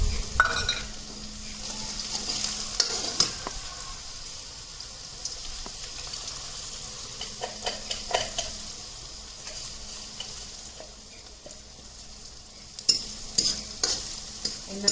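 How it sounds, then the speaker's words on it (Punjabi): Masala being stirred and fried in a pan for a spicy bitter gourd (karela) sabzi, with a steady sizzle, repeated scraping stir strokes and utensil clinks close up. "ਆਪਾਂ ਫਰਾਈ ਕਰਾਂਗੇ ਚੰਗੀ ਤਰ੍ਹਾਂ ਨੂੰ ਆਪਣਾ ਮਸਾਲਾ ਜੀ ਇਹ ਸਾਰਾ ਵੇਖੋ ਭੁੱਜ ਚੁੱਕਿਆ"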